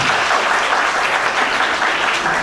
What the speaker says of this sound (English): They're clapping very honestly,